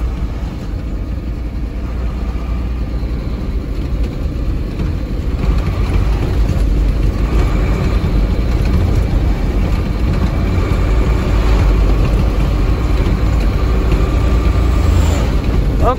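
A Mercedes New Eleganza car engine runs steadily while driving, a constant low rumble with road noise filling the whole stretch, no talk over it.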